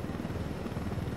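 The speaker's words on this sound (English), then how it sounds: "that's the helicopter I stole right there." A helicopter in the video game Ghost Recon Wildlands gives off a steady, throbbing rotor drone, a dense low churning hum that stays loud and unbroken for the brief moment.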